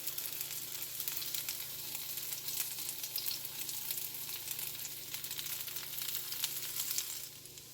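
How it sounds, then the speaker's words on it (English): French toast roll-ups fry on a griddle, placed seam side down, giving a steady, close sizzle with crackling bursts that fades near the end; no talking. "I have my first batch in the griddle. They are cooking quite nicely."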